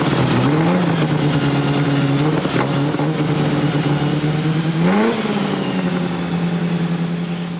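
A Bugatti Type 18's 5-litre four-cylinder engine, about 80 years old, idles loudly with a steady low rumble, revving up briefly twice before settling back to a smooth, throbbing idle.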